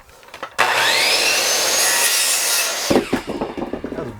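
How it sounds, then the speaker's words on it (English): Sawzall reciprocating saw cutting through PVC drain pipe in one loud, close burst lasting a couple of seconds, followed by scraping and handling clatter of the cut piece. "I'm going to end up cutting it again with a Sawzall."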